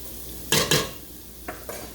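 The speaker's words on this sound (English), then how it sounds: "let's let this saute for just about 5 minutes" Chopped vegetables and bacon sautéing in a soup pot, heard as a few sharp metallic clinks and scrapes of a spoon against the pot over a low, steady background.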